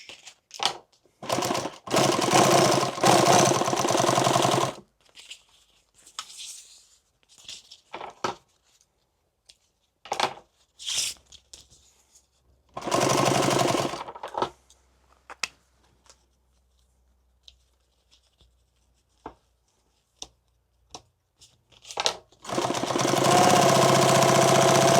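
A sewing machine motor runs in loud bursts while a fabric bandolier is stitched, stopping and starting in short runs with quiet gaps between.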